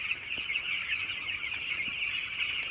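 Young chicks in a poultry farm shed give a continuous high-pitched chorus of peeping and clucking, steady and fairly close, with no talk over it.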